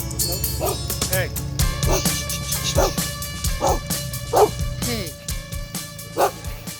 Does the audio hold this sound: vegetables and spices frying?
no